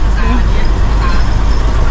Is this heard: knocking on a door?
no